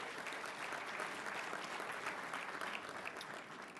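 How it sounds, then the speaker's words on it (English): Big round of applause from a conference hall audience at a mayors' winter meeting plenary session, dense and steady clapping heard at a moderate distance and held at an even level throughout. "big round of applause."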